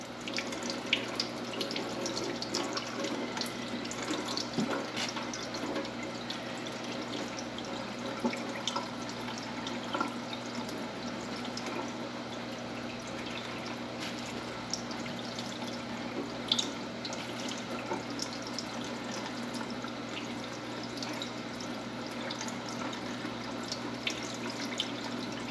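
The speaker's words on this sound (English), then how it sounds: "Putting a little bit of pressure on the cheesecloth with your finger helps the water go in." Water runs steadily through cheesecloth to rinse sprouts in a sink, a continuous soft trickle with scattered drips, alone and fairly quiet throughout.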